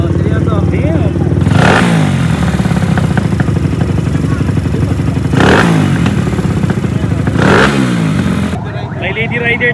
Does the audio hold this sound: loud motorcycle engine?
yes